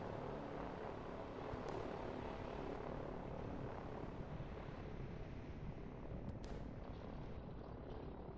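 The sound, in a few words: helicopters flying in the video game Line War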